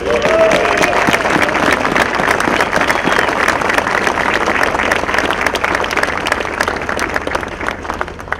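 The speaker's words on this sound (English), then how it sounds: "Can you please give him another round of applause?" Sustained, dense applause from an audience at a Bergen County freeholders meeting honoring the county sheriff, loud and steady throughout with a faint voice briefly under the clapping.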